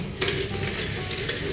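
A spoon clinks and scrapes against a glass as a drink is stirred, producing quick, close, fairly quiet metallic taps with no talking.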